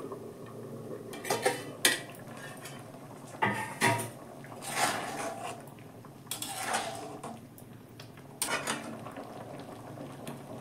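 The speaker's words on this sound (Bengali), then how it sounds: "এবারে আমি একবার চাপাটা খুলবো, খুলে একটু নেড়ে দেব" Pot lid lifted off a pressure-cooked vegetarian dal with bottle gourd greens, then metal clinks and scrapes of a spoon stirring in the pot, several distinct knocks spread out over quiet kitchen background.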